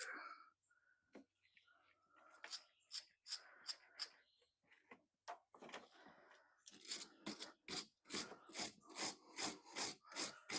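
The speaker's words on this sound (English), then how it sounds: "Seems kind of bizarre wire brushing wire, but just trying to get some of the old corrosion and oxidation out of it." A wire brush scrubs corroded, oxidized wires on a 1988 Ford Ranger, making quiet, close rasping strokes. They come slowly and unevenly at first, then speed up into a steady back-and-forth rhythm over the last few seconds.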